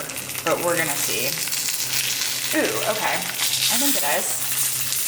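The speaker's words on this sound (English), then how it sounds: "Ooh, look at that sizzle." A homemade crunch wrap sizzles loudly and steadily in a frying pan, a bright continuous hiss under a person speaking.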